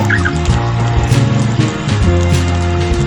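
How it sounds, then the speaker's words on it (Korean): Loud birds call together in a dramatized scene, a noisy overlapping chorus of gobbling, fowl-like cries that carries steadily for about three seconds. "이윽고 이제 요란한 새소리에 잠을 깹니다"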